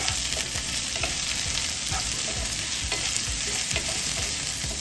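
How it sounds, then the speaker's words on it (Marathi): Red chili, coriander and cumin powder stirred into raw mango methamba in a hot pan, a loud, dense sizzle with repeated scraping strokes of a spoon at an even rhythm, close up and without speech. "त्यानंतर अर्धा ते पाऊण चमचा लाल तिखट, त्यानंतर 1 चमचा धने पावडर, अर्धा चमचा जिरे पावडर एकत्र मिक्स करून घेऊया।"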